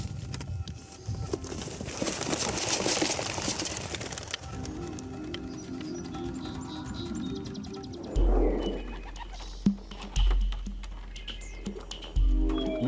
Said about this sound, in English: we open the box and let the pigeons go